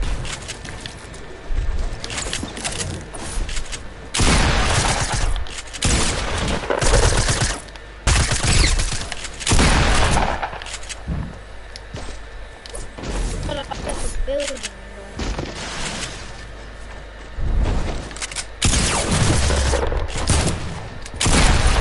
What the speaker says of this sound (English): I'm just rapid firing if anyone's watching